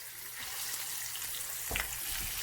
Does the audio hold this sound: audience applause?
no